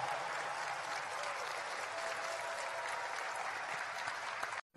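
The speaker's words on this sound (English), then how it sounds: "Would you join me in giving a vigorous round of applause to Commander Bob Behnken and Commander Doug Hurley?" An audience applauds at a NASA and SpaceX launch event, a steady, dense wash of clapping from a large crowd that carries on evenly before cutting off abruptly at the end.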